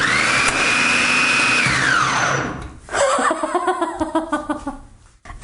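A food processor fitted with a slicing blade starts unexpectedly as its cover locks, giving a loud high whirring motor whine that winds down after about two seconds, followed by rattling, clattering knocks as it slows to a stop.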